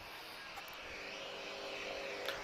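An ATR turboprop airliner arrives at Lisbon Airport, its steady propeller and engine drone heard at a moderate distance, faint and continuous with a slight rise in level.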